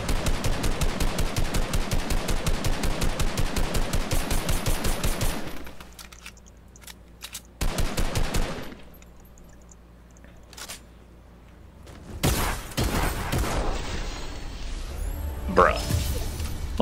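Rapid automatic gunfire from a Fortnite: Battle Royale match, loud and dense for several seconds, then scattered single shots and another heavy burst near the end, with players talking over the action.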